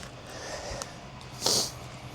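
One sharp nasal sniff from a person outdoors, brief and close, rising over a faint steady background hum.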